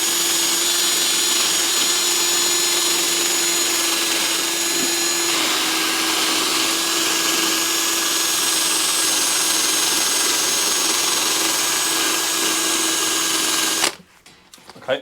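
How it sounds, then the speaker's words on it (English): Electric drill spinning a wire brush against a lawn mower blade bolt, a steady high whirring grind that runs continuously for about fourteen seconds, then cuts off abruptly. "I'll give it a little bit of a clean up with my drill, just so it gets rid of all the dirt."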